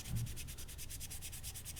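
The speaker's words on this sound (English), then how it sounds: "Now we're going to go inside, wrap a little bit of our 600 grit in there," 600-grit sandpaper rubs inside a Marlin rifle part in a quick, even back-and-forth rhythm of roughly eight strokes a second, close and steady throughout with no voices.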